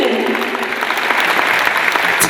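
A large audience at an award ceremony applauds loudly and continuously, a thick wash of clapping filling the whole hall without letting up.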